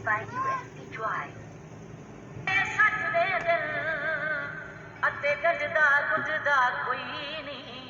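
A mini Bluetooth MP3 amplifier kit drives a small speaker with thin, tinny, band-limited playback, mostly vocal-sounding, quiet at first and then louder and more continuous.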